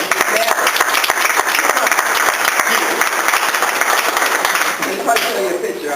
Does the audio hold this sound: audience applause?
yes